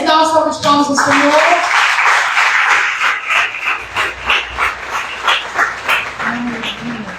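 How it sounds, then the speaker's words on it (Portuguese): Congregation clapping in church, a dense run of rhythmic applause after a short sung or spoken phrase, loud and close with a voice briefly above it at the end. "Vamos dar uma salva de palmas ao Senhor."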